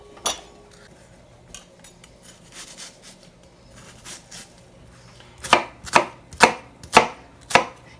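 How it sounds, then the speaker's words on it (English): A knife chopping vegetables on a cutting board for black bean soup, light scattered taps at first, then five loud evenly spaced chops close up, no talk. "while I'm doing the knife work on the rest"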